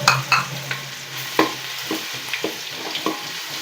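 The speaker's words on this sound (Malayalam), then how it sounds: "എല്ലാം കൂടെ നമ്മൾ ആ എണ്ണയിലോട്ട് ഇടുന്നു." Crushed ginger, garlic and green chilli with cardamom, fennel, cloves and cinnamon frying in hot oil in a home kitchen, with a low sizzle under repeated sharp clinks and scrapes of a spoon stirring the pan.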